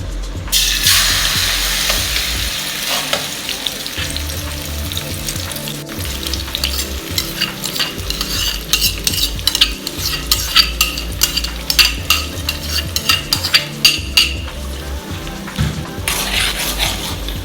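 Onion, chili and spice sauce for jollof rice frying in oil, a loud steady sizzle with crackling bursts and occasional stirring clinks from a utensil against the pot, continuous throughout with no talking.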